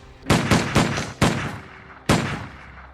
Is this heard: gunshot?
yes